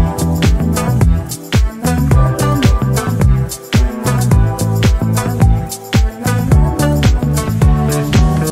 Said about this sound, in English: So those plucks are actually there just to kind of sit behind the vocal